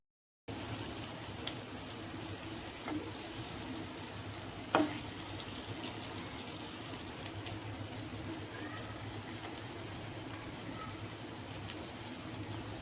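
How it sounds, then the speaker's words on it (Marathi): Stuffed bitter gourds fry in oil in a wok, a soft, steady sizzling hiss heard close but faint, with an occasional small clink partway through. "आता मी फ्राय करते मी तेल टाकलेलं आहे कढईमध्ये"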